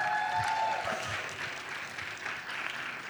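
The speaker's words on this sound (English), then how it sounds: "A round of applause, please." Audience applause breaks out for the Changemaker of the Year award winner at The Hollywood Reporter India's Women in Entertainment 2026 event, a steady wash of many hands clapping at moderate distance with a brief tone and murmur at the start.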